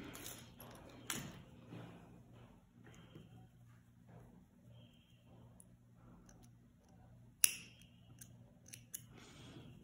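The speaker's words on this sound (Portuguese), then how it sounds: "Nós podemos cortar o fio." Scissors snip through crochet yarn while a sousplat placemat is being made, giving a few soft, close cuts with one sharper snip standing out amid quiet handling noise.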